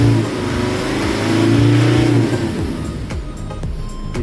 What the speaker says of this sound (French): on va accélérer pour voir